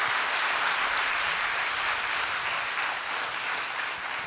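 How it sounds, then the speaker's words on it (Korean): A church congregation at a New Year's Eve worship service claps for the Hosanna choir after its hymn, a dense, steady wash of applause that continues evenly throughout with no voices. "우리 다시 한번 우리 박수하면 좋겠습니다"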